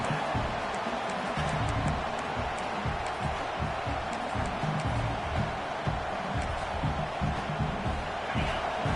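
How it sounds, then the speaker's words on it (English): A large American college football stadium crowd roars continuously, a dense wash of cheering and shouting that stays loud and steady throughout. "Listen to the crowd energy here in the early going."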